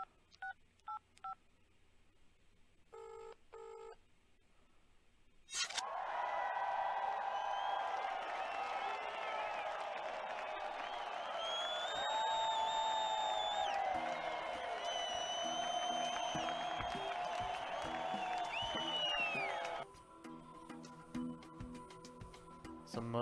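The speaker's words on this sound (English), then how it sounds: "Wow, I'm just humbled by all those applause." A sustained burst of crowd applause and cheering in the video game Enforcer: Police Crime Action swells for several seconds, bracketed by electronic beeps and tones before and after.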